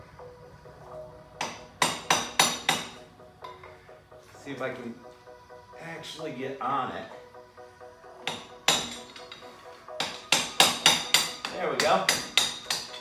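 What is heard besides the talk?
hammer striking a bar to pop out a Honda Civic Del Sol CV axle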